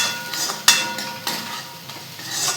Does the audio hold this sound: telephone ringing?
no